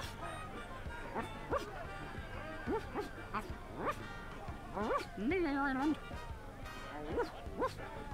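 Cartoonish dog yips and bow-wows from the dog character in The Secret of Monkey Island, a 1990 point-and-click adventure game, several short barks and a whimpering yelp mixed with game sounds and someone talking over them.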